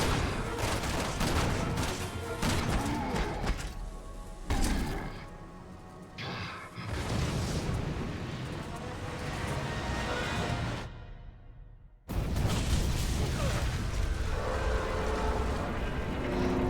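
Gunfire in the video game Resident Evil 6, dense bursts of shots and booms filling the scene almost continuously, loud and close, with a brief drop-out before the barrage resumes.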